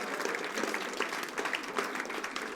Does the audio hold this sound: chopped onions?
no